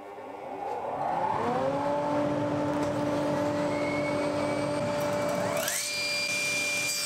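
Workshop dust extractor spinning up from quiet into a steady, loud whine with sustained motor tones, running continuously near the listener, its pitch rising sharply near the end.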